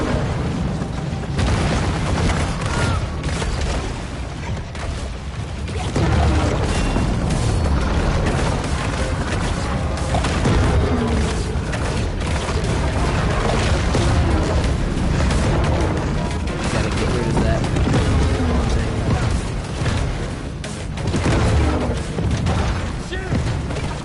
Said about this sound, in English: this dude shoots missiles at us